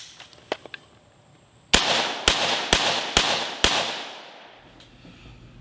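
An AR-15 rifle with its gas rings aligned is fired outdoors: five sharp, loud shots in quick succession, each with a trailing echo that fades, after a few faint clicks.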